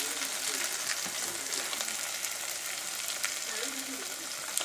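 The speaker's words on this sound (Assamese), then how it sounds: "এতিয়া আমি ইয়াতে গৰম পানী দিম" Hot water poured into a pan of fried potatoes for a mutton curry, giving a steady, close hiss and crackle of sizzling that holds for several seconds with no talk.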